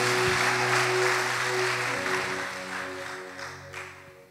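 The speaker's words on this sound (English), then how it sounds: "Clap for yourselves." Broadband crowd clapping from a church congregation fills the opening seconds, loud and sustained, then gradually thins and fades while sustained organ or keyboard tones hold underneath.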